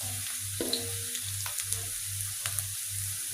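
Red sambal sizzles steadily as it fries in a pan, with a spoon scraping and stirring through it at a regular rhythm, quiet and close, with no voices.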